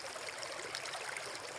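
A small stream babbles and laps through a wetland meadow, a steady close rush of trickling water with bright splashing texture and no voices.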